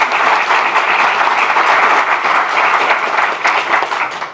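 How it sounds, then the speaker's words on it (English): A university audience gives the ARPA-H director a round of applause, dense sustained clapping from a large crowd filling an indoor hall, loud and even throughout with no voices over it. "Let's give the director a round of applause."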